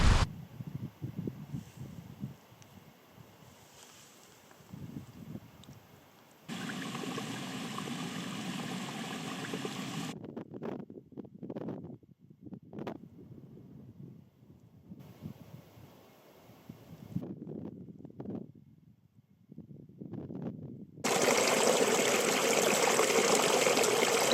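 A river in the Bluestack Mountains of Donegal rushes in broadband wash that cuts in and out, with quieter breaks between stretches of flowing water and a louder surge at the end.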